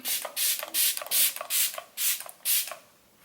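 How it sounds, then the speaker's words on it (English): Several quick pumps of MAC Fix Plus setting spray mist onto skin, seven or so close, crisp airy bursts in an uneven rhythm, each a brief hiss followed by a short pause, with no talking. "I'm going to use a few sprays of MAC Fix Plus all over my skin"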